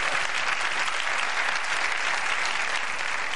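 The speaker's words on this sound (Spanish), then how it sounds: "Han aplaudido porque el regidor les ha hecho así" Studio audience at a Spanish late-night TV comedy show breaking into sustained, dense applause on the floor manager's cue, steady and loud throughout with no voices on top.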